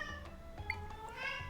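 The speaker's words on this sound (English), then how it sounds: "Pixel, one of the other sponsors of the channel, having a big meow around the corner" A pet cat named Pixel meows from around the corner, a short, faint cry set against a steady low hum and soft background tones.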